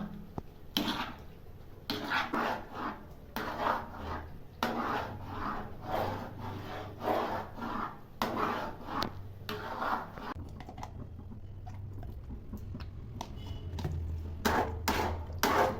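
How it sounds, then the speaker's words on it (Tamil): Rice and milk stirred continuously in a pot, a steady run of scraping, knocking strokes from the spoon against the pot, close and fairly rhythmic throughout. "விடாமல் கிண்டிகிட்டே இருக்கணும் விட்டோம்னா தீஞ்சு போயிடும்"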